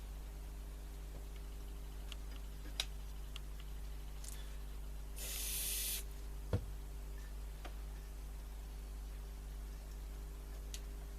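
Aerosol cleaning spray hisses in one short burst of about a second onto an Elizabethan LZ34 tape recorder's TD10 tape deck, with faint ticks and clicks around it over a steady low mains hum.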